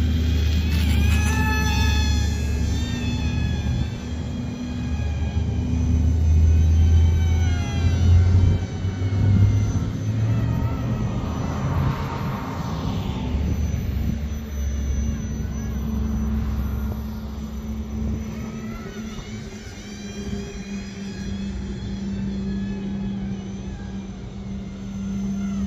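BM F-22 Raptor 4-channel RC model plane flying at night, a loud continuous electric whine with wavering pitch sweeps as it turns and passes, heard alone for about 25 seconds.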